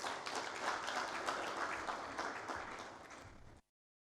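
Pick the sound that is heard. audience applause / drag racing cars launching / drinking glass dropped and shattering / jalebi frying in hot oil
audience applause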